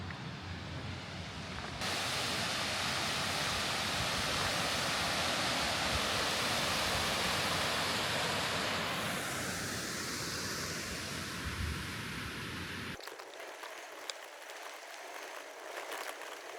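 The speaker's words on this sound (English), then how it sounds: "there's a really pretty waterfall" A pretty waterfall near a very high campsite reached by a sketchy drive, heard as a loud, steady broadband rush of falling water that fills the clip and drops away sharply near the end.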